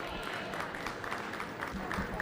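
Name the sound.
audience applause at goat show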